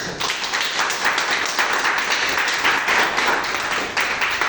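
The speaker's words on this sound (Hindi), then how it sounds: "जोरदार ताली लगाइए" An audience at a DXN business seminar claps loudly and steadily, a thick sustained burst of many hands that keeps an even level for over four seconds with no talking.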